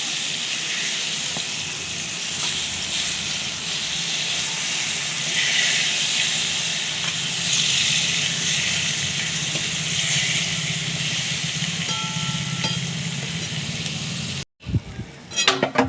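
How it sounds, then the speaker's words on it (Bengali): Large eggplant pieces sizzle in a wok of hot oil, a steady loud hiss that continues evenly and then cuts off abruptly near the end, followed by a few handling clatters. "বেগুনগুলোকে ভেজে নেব।"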